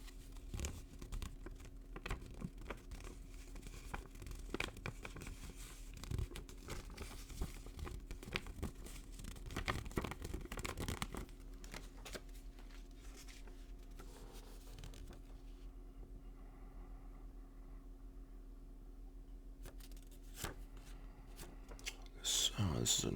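Paper banknotes of Eastern European currency, including a 500-ruble note, are handled close up with soft crinkles, rustles and flicks, faint and intermittent over a quiet hum.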